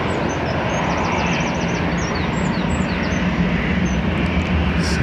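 An Aer Lingus airliner takes off from Dublin Airport with a loud, steady engine roar and rumble, while birds chirp faintly at intervals above it.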